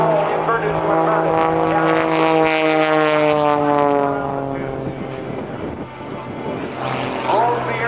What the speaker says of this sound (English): Now, rolls the airplane on the upline.